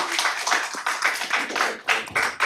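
Town council meeting audience applauding in a brief burst of clapping, a few seconds of moderately loud, dense claps that rise and fall without any talk.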